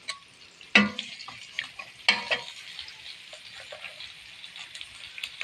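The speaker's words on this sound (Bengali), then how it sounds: "এখন আমি পেঁয়াজগুলো ভেজে নেব।" Onions frying in hot oil in a pan give a steady close sizzle, broken by two sharp clattering stirs near the start and lighter scrapes afterward.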